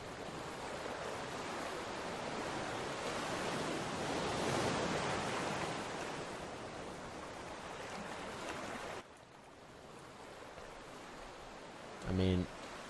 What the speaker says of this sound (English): yeah, that is the sound of the ocean.